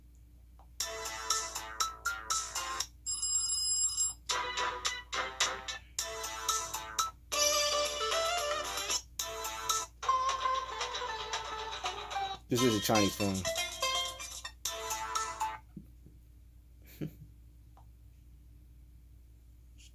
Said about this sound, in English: Let's check out the ringer.